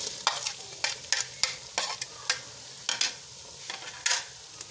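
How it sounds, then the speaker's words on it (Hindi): Tomatoes and green chillies hit hot oil with frying ginger and garlic for a chicken salan, giving a steady sizzle broken by sharp, regular stirring scrapes of a spoon in the pan, close and clear. "अब हम इसमें टमाटर और हरी मिर्चें डाल देंगे।"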